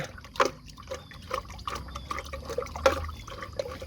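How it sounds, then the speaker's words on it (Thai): Baking soda being stirred into water for spraying tomato plants, a series of light liquid clinks and sloshes repeating steadily at close range with no talk. "คนสักพักหนึ่งให้เบกกิ้งโซดาเขาละลายดีนะคะ"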